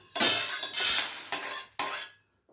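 Fried dal being scraped and tipped from a pan onto a dry plate, a few loud gritty scraping and clattering strokes with brief pauses between them.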